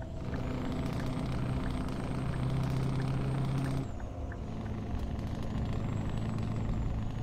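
A truck engine in Euro Truck Simulator 2 drones steadily with a high whistling tone that drops off partway through, then the rumble continues with a faint rising whine.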